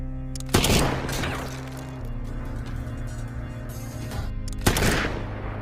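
Sharp rifle gunshots from a war film about Soviet and German snipers, two loud cracks spaced several seconds apart with a lingering rumble between them.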